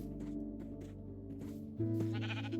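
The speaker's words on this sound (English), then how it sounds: "And look at this! The sheep!" Sheep in the video game Minecraft bleat in a few short, nasal calls over steady background game sounds, with a louder, fuller bleat near the end.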